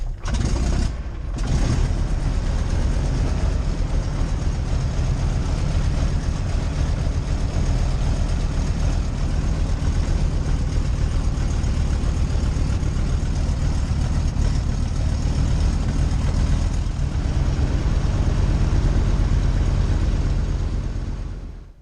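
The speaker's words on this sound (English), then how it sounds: "With the engine primed, the 850 Le Blonde bursts into life. And like all radials, it has its own unique sound." A 1936 Rearwin Sportster's LeBlond 850 radial aircraft engine runs steadily after priming, a loud, close, continuous low throbbing rumble with a rough mechanical edge and no talk over it.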